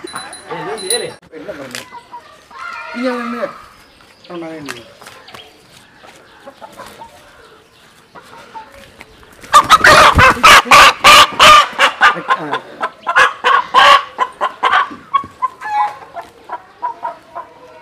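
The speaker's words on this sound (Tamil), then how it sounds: "கஷ்டப்பட்டு இந்த நாட்டுக்கோழியை பிடிச்சாச்சு." A caught country chicken clucks and squawks in a village, loud bursts of fowl calls close by, with people talking around it.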